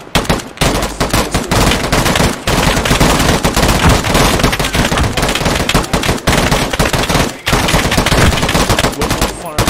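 Long sustained bursts of machine gun fire in a military video game, loud and dense, breaking off only in a few brief gaps, with faint voices underneath.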